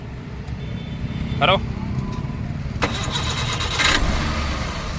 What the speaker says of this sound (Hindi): गाड़ी स्टार्ट है, बिल्कुल एक नंबर आवाज़ है गाड़ी की।